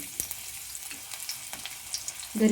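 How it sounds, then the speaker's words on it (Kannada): Dry red chillies crackling and sizzling in hot oil for a tempering for avalakki, a soft, steady frying hiss with a few small pops and a brief louder stir near the end. "ಇವಾಗ ಒಣಮೆಣಸಿನ್ಕಾಯಿ ಹಾಕೋತಾ ಇದ್ದೀನಿ"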